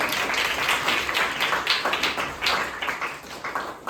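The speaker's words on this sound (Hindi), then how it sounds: "तो सर के लिए एक बार तालियां बजा दें।" Audience clapping at a Republic Day celebration, a dense steady round of applause from a crowd, fairly close and sustained throughout.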